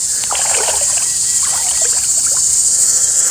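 A constant high-pitched insect ringing, like cicadas, drones steadily throughout, with a few faint scattered rustles beneath it.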